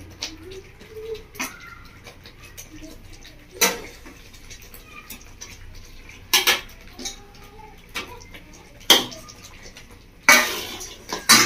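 Fried eggplant pieces added to a simmering masala in a pan, heard as scattered clinks and knocks of utensils against the pan, sharp and close, over a soft background.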